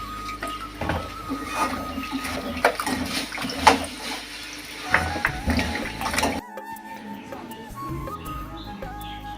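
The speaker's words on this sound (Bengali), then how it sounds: "সবজিগুলো ধুয়ে নেওয়া হচ্ছে এগুলো ধুয়ে নেওয়া হচ্ছে তিন থেকে চারবার ধুয়ে নিতে হবে" Vegetables being washed by hand in water for a Chittagong-style ghonto curry, with splashing, sloshing and clattering through most of the clip, then a quieter stretch of lighter rinsing and dripping near the end.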